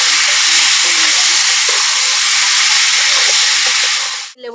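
Lemon pickle frying in a pan gives a loud, continuous sizzling hiss that stays steady and close before cutting off at the end.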